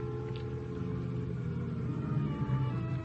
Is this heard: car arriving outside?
yes